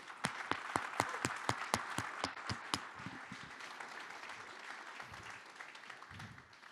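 A dozen or so crisp, evenly spaced claps from an audience at a motivational business talk, a quick unison rhythm lasting under three seconds before trailing off into faint room murmur.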